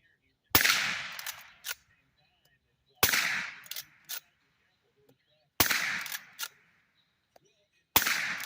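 Four muffled gunshots from a suppressed Rossi R92 lever-action rifle firing .38 Special, spaced a few seconds apart, each a sharp crack with a brief tail and faint mechanical clacks of the lever action after.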